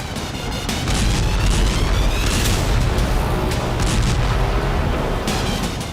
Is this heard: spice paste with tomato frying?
no